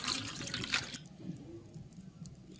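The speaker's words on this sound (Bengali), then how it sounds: "আমি ডিমটা নামিয়ে নেব। ঠান্ডা জল দিয়ে দেবো।" Cold water is poured over boiled duck eggs in a blackened kadai: a brief, close splashing gush lasting about a second, then only quiet kitchen background.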